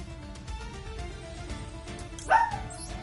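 A dog in the room gives a single short bark that rises briefly out of quiet background noise near the end.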